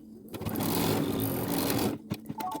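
An embroidery machine runs a continuous stitching pass on a keychain piece, a close, steady mechanical whir and rattle that stops abruptly, followed by a few separate clicks and knocks.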